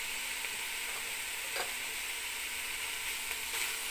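Coriander and mint being stirred into frying minced meat with bitter gourd, a constant close sizzle with a few soft scraping stirs, no talk.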